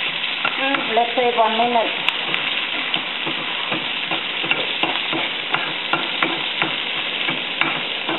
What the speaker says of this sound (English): fry the green onion for about half a minute